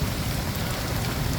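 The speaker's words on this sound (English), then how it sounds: "It's been raining like this for the last 20 minutes," Heavy rain pouring down in Wichita, Kansas, a steady close hiss of drops drumming on surfaces with no voices.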